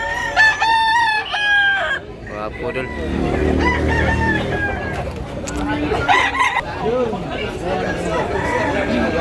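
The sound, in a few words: rooster crowing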